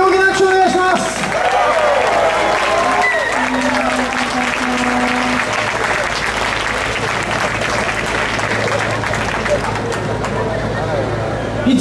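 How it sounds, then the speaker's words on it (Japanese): An audience at a 2013 Greens Japan election campaign speech event applauds loudly and continuously, dense clapping filling the scene while a voice speaks over it briefly at the start. "大きな拍手をお願いします。"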